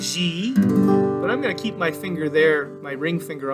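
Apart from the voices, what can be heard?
No everyday noises stand out.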